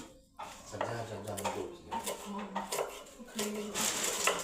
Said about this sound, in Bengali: পেঁয়াজ কাটছি আমি স্লাইস করে, একদম ছোট্ট ছোট্ট করে পেঁয়াজ কাটবো